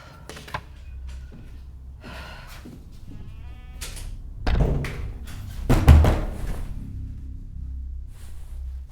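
Heavy banging on a wall indoors: a few scattered knocks, then two loud thudding impacts near the middle, with whiny vocal noises throughout.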